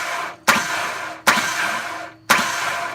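A turbocharged Ford Ranger engine fitted with a Walbro 255 fuel pump and MegaSquirt control, cranked over by the starter in three separate bursts, each starting with a sharp onset and whirring briefly before cutting off, with no firing.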